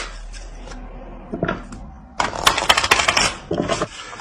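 A tarot card is drawn from the deck and laid down, with soft taps, then a quick run of crisp papery clicks and slaps up close.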